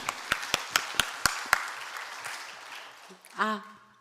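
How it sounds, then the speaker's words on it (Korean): At a fasting prayer retreat, claps ring out in a quick, evenly spaced series of about six sharp strikes in a church hall, followed by quieter rustling and then a voice speaking into a microphone. "우리 박수 한번 하세요."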